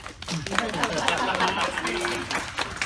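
Convention panel audience clapping with scattered cheers and crowd chatter, a dense, loud wash of applause throughout with voices mixed in.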